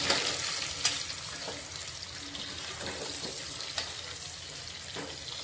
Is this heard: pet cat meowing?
no